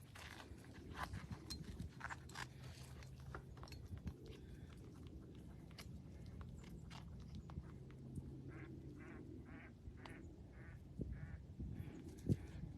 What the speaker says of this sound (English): There goes the duck.